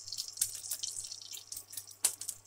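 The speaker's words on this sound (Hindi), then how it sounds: "4 चम्मच घी डालेंगे हम।" Four spoonfuls of ghee go into a pan for semolina halva, making soft, close drips and splatters in a few brief bursts over a faint background hum.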